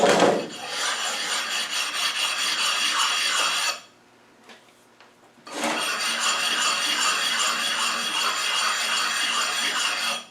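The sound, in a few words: oil stone rubbed over a crown wheel to remove burrs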